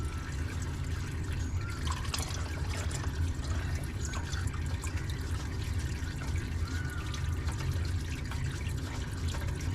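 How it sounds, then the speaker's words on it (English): Engine oil drains out of a VW T25 van, a faint, steady liquid trickle and pour running continuously beneath low background rumble. "So let all the oil drain out"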